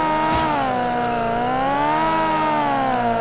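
Race cars in the street-racing video game Kanjozoku accelerate around a track. A loud, continuous engine whine rises and falls in pitch as the cars speed up and ease off.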